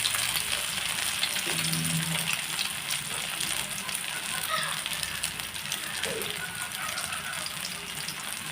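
Vanjaram kingfish frying in oil, a dense continuous sizzle and crackle held close and steady throughout, with faint clinks in the background.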